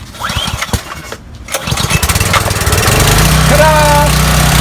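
Gas engine on a Ryobi pressure washer pulled over and catching, first sputtering under brief talk, then settling into a loud, steady close-up idle.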